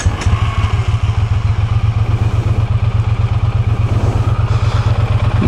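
A 2023 Triumph Bonneville T100 motorcycle with stock twin exhaust pipes idles close by, its rapid, even chugging pulse loud and steady throughout with a rattly mechanical edge.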